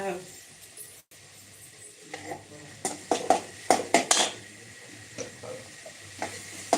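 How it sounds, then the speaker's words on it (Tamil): Onions sauté in a pan with a low, soft hiss beneath sharp clinks and scrapes of a utensil against the metal, which come in an uneven run of knocks. "வெங்காயம் நல்லா வதங்கி வரும் வதங்கட்டும் கொஞ்ச நேரம்"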